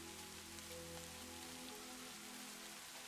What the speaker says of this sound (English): And still the rain fell.